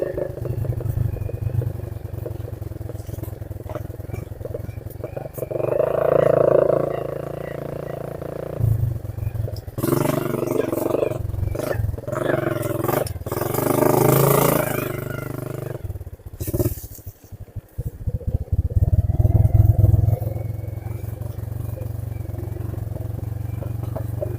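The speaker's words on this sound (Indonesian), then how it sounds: "Motornya enak banget teman-teman, tenaganya" Motorcycle ridden over an extremely rough track on the way to a waterfall camp, its engine droning steadily with clattering and scraping bursts from the uneven ground, loud and close throughout, with no talk.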